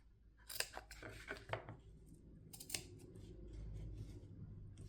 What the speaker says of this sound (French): là où il y a des petits plis, je vais cranter.